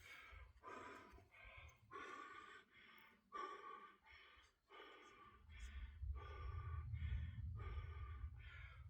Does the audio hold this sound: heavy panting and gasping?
yes